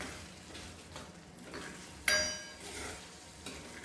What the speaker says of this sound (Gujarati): આપણે જે પેસ્ટ તૈયાર કરેલી હતી તે પેસ્ટ એડ કરીશું. અને બરાબર મિક્સ કરી દઈશું.